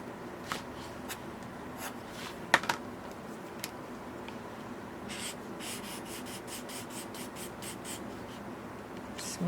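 A Copic Sketch marker stroked and blended across paper, giving soft, intermittent scratchy rubbing strokes close by and fairly quiet, with a few sharper taps, then a run of quick repeated strokes toward the end.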